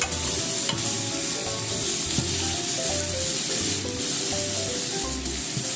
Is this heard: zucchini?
yes